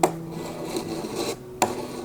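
A Tech Deck fingerboard's high truck kingpin scrapes along a smooth wooden obstacle, giving a short rasping grind with a sharp knock at the start and another near the end.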